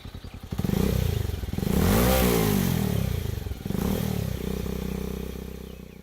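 A motorbike revs hard several times, its engine note swooping up and down, then settles into a steady throttle as it rides off, loud and close throughout.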